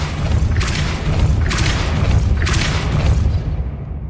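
The Depulso force-push spell in Hogwarts Legacy fires as three loud, deep booms about a second apart over a dense rumbling game soundscape.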